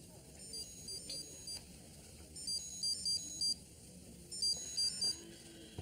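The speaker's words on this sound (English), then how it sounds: "Answer your phone." A mobile phone rings with repeated bursts of bright electronic tones, clear and moderately near over a low murky background of ambient noise.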